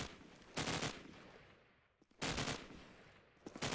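Gunfire in a Call of Duty 4 promod match on the Crossfire map: two loud bursts of rapid automatic fire, each lasting about a third of a second, separated by a quiet gap and followed by a few faint shots.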